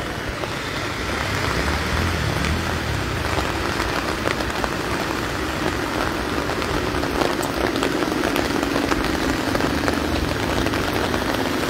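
Heavy rain pours steadily over Marikina, a dense, loud hiss of drops on surfaces that holds unbroken throughout, with no voices.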